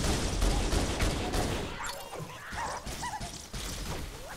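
Grenade blasts in Halo: Combat Evolved on MCC, with a loud burst of crashing explosions up front, then fainter game effects and chirpy sounds trailing off afterward, no talking.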